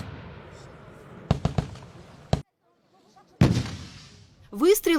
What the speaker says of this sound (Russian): Выстрел из ручного противотанкового гранатомета РПГ-7 оглушает